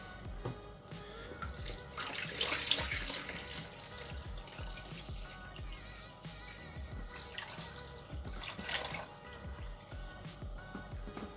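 Demineralised water pours into the large water tray of an egg incubator, with two faint, splashing pours separated by a quieter stretch of trickling.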